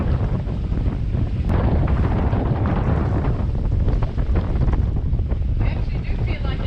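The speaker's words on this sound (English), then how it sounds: "In 20 knots of wind." Strong Meltemi wind gusts roar across the microphone aboard a sailboat in about 20 knots of wind, a loud continuous buffeting rush with water noise beneath and no clear talk.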